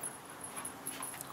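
A dog gives soft, faint whimpers and thin high-pitched whines while playing, brief and intermittent against a quiet background.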